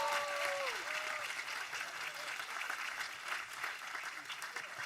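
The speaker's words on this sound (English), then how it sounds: "Let's give him another big round of applause." Applause from a convocation audience for a student speaker, a sustained wash of clapping, quite faint and far off, with brief tonal sounds near the start.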